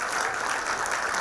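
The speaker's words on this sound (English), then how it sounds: "how about a round of applause for our alumni grant winners?" An audience at a film awards show claps steadily for the alumni grant winners. The applause is a brief, dense burst with no pauses.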